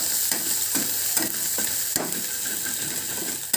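Paneer chili with soy sauce and vinegar sizzles loudly in a pan as a spatula stirs it, with a steady frying hiss and a few sharp scrapes against the metal; close-up, no voices.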